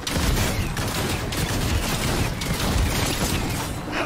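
Shotgun fire in a large online battle video game, heard as dense, continuous crackling blasts and mechanical clatter at a steady loud level throughout, with no pauses and no talking.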